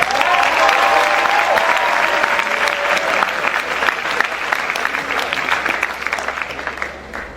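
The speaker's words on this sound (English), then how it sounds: "So let's give some big round of applause" Graduation speech audience breaking into loud, close applause, a thick crowd of clapping with some cheering at the start that gradually thins and softens toward the end.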